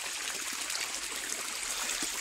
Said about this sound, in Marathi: आणि मळ्यातली मोटर चालू केलेली.